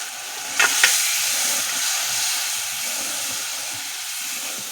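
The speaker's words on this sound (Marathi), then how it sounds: "फोडणी मस्त होते आहे ना" Masala spices fry and sizzle in hot oil for a tempering, a steady broad hiss with two brief sharper crackles near the start and no voices.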